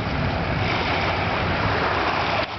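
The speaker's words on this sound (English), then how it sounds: "We're at the beach with Uncle Jake and Aunt Kelly." Lake waves at a beach in Chicago, a continuous broad wash of surf and wind that stays loud and even, with no voices.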